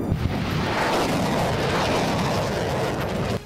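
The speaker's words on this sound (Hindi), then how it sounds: "उनकी तोपों की आवाज से पूरा इलाका गूंज उठा" Artillery guns fire missiles during a joint US and Philippine military live-fire drill, a dense continuous roar of booms and blasts rumbling without a break, loud and distant-sounding, with no voices.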